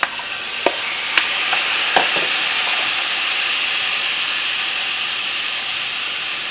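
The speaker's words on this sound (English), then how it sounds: "first we're going to melt the butter, then we're going to throw in our shrimp, our salt, and our crushed red pepper" Shrimp seasoned with salt and crushed red pepper sizzle loudly in melted butter, a dense steady hiss after a few sharp clinks as they hit the pan, continuing evenly throughout.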